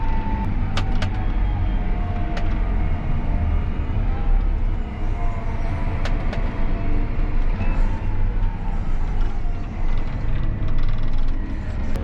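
A John Deere 8410RX tractor engine throttling back and downshifting, a steady low rumbling drone heard from the cab with occasional clicks, the engine easing off gradually.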